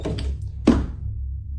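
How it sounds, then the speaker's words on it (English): A single dull knock thuds inside a brand-new house at night, one short heavy impact over a low steady room hum, with faint indistinct sounds just before it. "every single night at the same time this knocking starts"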